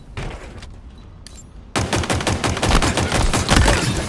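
Gunfire in a Halo Infinite Oddball match: a few scattered shots, then a dense burst of rapid automatic fire running loud and continuous.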